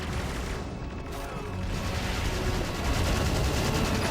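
Siege guns firing in the video game Battalion Wars 2, a dense, continuous barrage of booms and gunfire that fills the whole stretch at steady loudness with no pauses.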